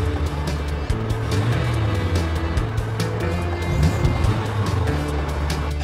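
A car in an audio drama drives by with a steady, loud engine roar that rises and falls, with brief squealing tire tones over several seconds and no talking.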